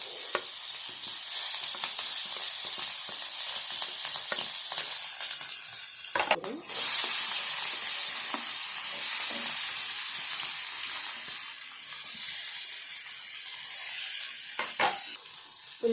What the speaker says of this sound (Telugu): అదే నూనెలో పచ్చిమిర్చి వేస్తున్నానండి